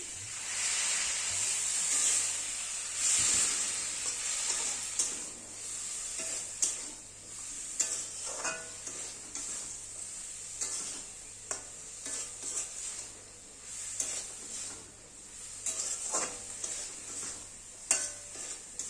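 Water poured into a hot pan while cooking ghugni, a bright hissing sizzle that stays steady and close, with scattered stirring scrapes and soft clinks and no talk.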